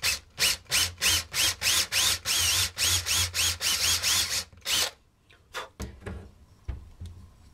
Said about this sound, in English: I'm drilling a recess for the eyes with a 3/8 inch Forstner bit.